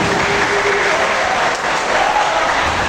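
Audience applause at a creative writing and learning workshop at a vocational high school, a dense steady patter of many hands clapping throughout, fairly loud and close, with a faint voice tone briefly rising above it.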